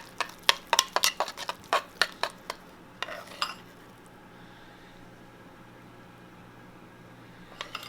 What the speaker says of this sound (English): Gonna give this a quick stir.